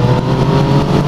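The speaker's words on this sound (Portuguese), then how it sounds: "Deixa eu passar só aqui o caminhão" A truck rumbles past close by, a steady loud low engine drone with no break across the short stretch and no talking over it.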